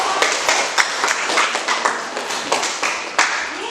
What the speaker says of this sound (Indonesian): Kita beri aplaus untuk kalian semuanya.